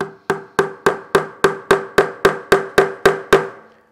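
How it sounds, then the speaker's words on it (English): A hammer taps a nail into two wood pieces for a lap desk, twelve sharp, evenly spaced ringing strikes in steady rhythm, close and loud. "we're going to hold the two pieces together with our offhand and tack in our first nail"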